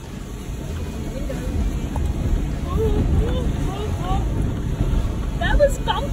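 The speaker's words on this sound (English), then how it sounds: "the big water crossing." A 4WD vehicle pushes through a deep water crossing on a Cape York track, making a steady churning, rushing wash with low rumble and wind buffeting the microphone throughout.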